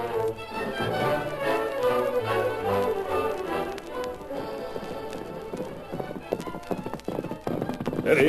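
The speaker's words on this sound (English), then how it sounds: "Rider on horse, one man. Heading this way." In a 1942 western radio drama, a single rider's horse hooves clip-clop in a steady rhythm, growing nearer and louder toward the end, with speaking voices over and between the hoofbeats.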